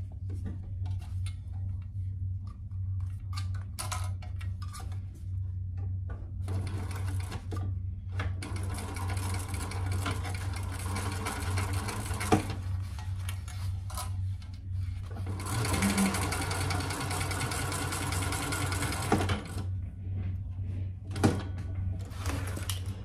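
A sewing machine stitches a seam on a waist pack, a steady close mechanical whir running in several long bursts with brief pauses between, plus a few light clicks and taps.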